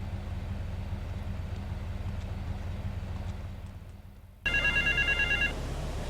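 A payphone in the Grand Theft Auto 3 video game rings with a warbling electronic bell burst that cuts in suddenly over a low idling engine rumble and ambient game noise.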